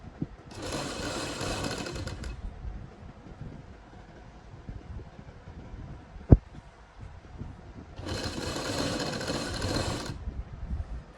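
A domestic sewing machine stitches a printed suit fabric in two steady running bursts, near and fairly loud, separated by a quieter pause with a single sharp click between them.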